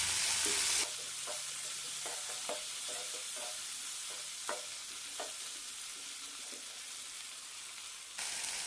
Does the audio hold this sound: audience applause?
no